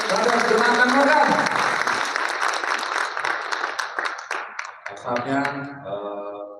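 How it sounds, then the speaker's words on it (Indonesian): Audience at a men's church camp applauds after worship music, a broad wash of clapping blended with lingering music and voices, fading as a sustained tonal sound takes over near the end. "Tepuk tangan sekali lagi untuk Brother Jonathan Morgan."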